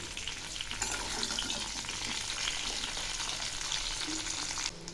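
Mixed vegetables for shukto are stirred while frying in a pan, giving a continuous close sizzle and crackle with light scraping that dips briefly near the end.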